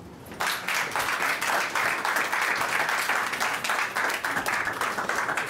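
A crowd at an AfroMusée cultural event in Quebec breaks into loud, dense applause that starts abruptly and continues steadily for about five seconds.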